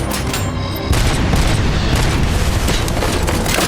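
Heavy blasts from grenades in the RoboCop: Rogue City shooter, a loud sustained roar of booming explosions and crackling gunfire filling the scene after a short lead-in of combat noise.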